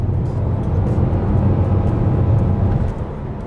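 A 2018 Nissan Qashqai N-Tech on 19-inch wheels revs hard while accelerating along a country back road, giving a loud, steady droning engine note with road rumble that holds throughout, no voices.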